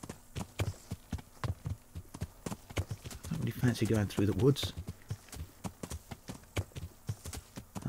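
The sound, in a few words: horse hooves clip-clopping while riding, video game Kingdom Come Deliverance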